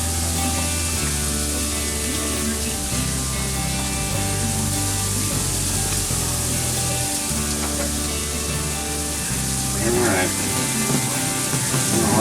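Big burgers sizzle steadily on a barbecue grill, a continuous close hiss running throughout under prominent background music.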